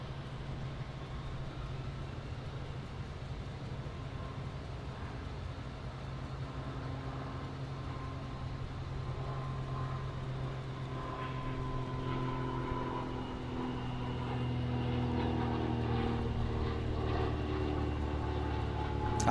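Airliner rolling on runway 9 at Gerald R. Ford International Airport in Grand Rapids, a steady low engine roar with a rising whine that swells and grows louder toward the end, no voices.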